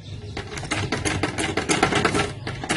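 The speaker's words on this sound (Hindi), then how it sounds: "ऐसे आप सिलाई लगाएं" A sewing machine stitches a fabric neck design in a fast, continuous run of close, loud needle clatter with a rattling mechanical rhythm and no talking.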